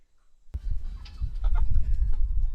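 About thirty farm chickens waiting to be plucked cluck and squawk in a busy, overlapping chorus from the flock, sounding close and fairly loud with no one talking.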